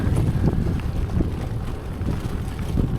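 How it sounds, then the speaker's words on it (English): Gusty outdoor wind rumbles and buffets the microphone in uneven low pulses, loud and close throughout, with no other clear sound. "There's some wind."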